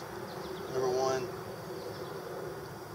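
Honeybees buzz around an open hive during an inspection, a soft steady hum with a brief louder swell as bees pass near.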